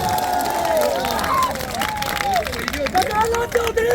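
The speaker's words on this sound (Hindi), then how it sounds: "एक बार जोरदार तालियों के साथ स्वागत कीजिए।" A crowd at a Congress election rally in Shravasti applauds and cheers to welcome a candidate, a busy mix of clapping and shouts with voices talking and calling over it.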